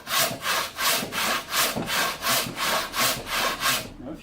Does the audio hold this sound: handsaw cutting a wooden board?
yes